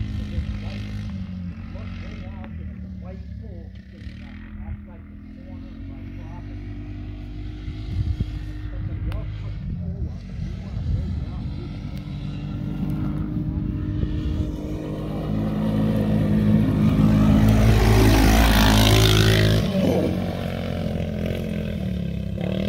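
A Polaris RZR 170 youth side-by-side driven by a child around a dirt track, its small engine droning steadily and swelling louder as it passes close, with a voice talking over it.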